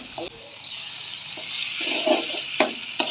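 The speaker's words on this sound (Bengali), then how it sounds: "এবার মাংসটাকে কষতে হবে ভালো করে" Marinated mutton is stirred and fried in spices in a pan, giving a steady hiss with scraping stirs and a couple of sharper knocks near the end, fairly close and loud.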